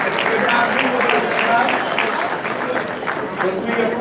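An audience applauds at an awards ceremony, with dense sustained clapping filling the hall and a voice carrying over it throughout.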